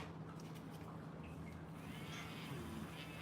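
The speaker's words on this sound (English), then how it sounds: "Kitty man, I hear you meowing" A cat meows indoors, faint and somewhat distant, over a steady low hum and room noise.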